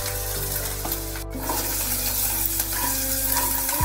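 Garlic, ginger and curry leaves fry in hot oil as a tempering, a steady close sizzle with stirring scrapes, one brief gap near the middle and a sharper clatter at the end.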